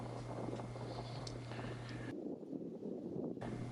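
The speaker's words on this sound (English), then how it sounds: "Very, very windy here at the moment." Wind gusts across a rural churchyard bordered by trees and fields, a faint, steady rush with buffeting on the microphone that briefly drops away before returning.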